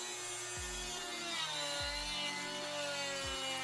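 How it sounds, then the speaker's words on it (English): A Dremel multi-tool carves wood, used like a small chainsaw with deep cuts then feathering strokes; a steady high whine runs under three repeated low rasping bites, close and fairly quiet. "I am using the multi-tool like a chainsaw here."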